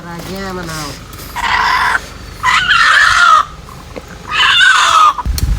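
Harsh, loud squawks from a distressed rooster about to be slaughtered with a knife come in three agitated bursts, with a voice heard briefly at the start.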